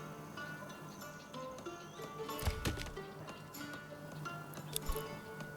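Horse hooves in the medieval city-building game Manor Lords, faint clip-clop steps under a busy bed of village ambience, clicks and birdsong, with a couple of louder thuddy bursts.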